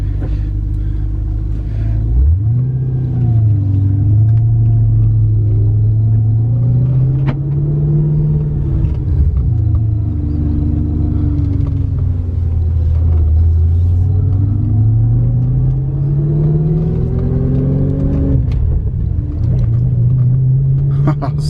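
A Volkswagen Touareg TDI diesel with 214,000 miles drives along, its low engine rumble rising and falling as it accelerates and shifts, close and loud from inside the cabin, with someone talking over it.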